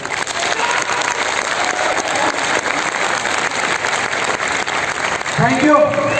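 Sustained audience clapping fills a hall, dense and steady throughout, with a brief swell near the end.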